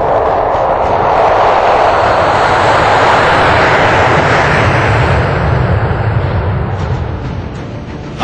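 Engines of a C-17 Globemaster III military transport aircraft roar loudly and steadily up close as a broad, powerful jet rumble that eases slightly toward the end.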